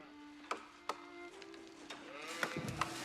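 Sheep bleat faintly in the Age of Empires video game, with quiet game clicks and ticks scattered through the clip.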